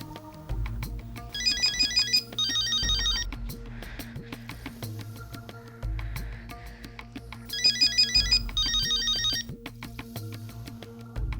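A mobile phone ringtone plays in repeated melodic bursts over a steady low musical backing, two ringing phrases near the start and two more near the end, clear and fairly loud.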